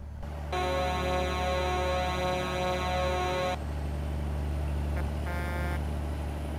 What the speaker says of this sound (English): can you hear the new horn?